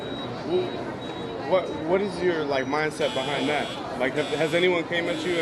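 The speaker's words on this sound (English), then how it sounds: "that's the alarm when you say stupid shit" A steady high alarm buzzer drones faintly beneath people talking, with another electronic tone sounding partway through.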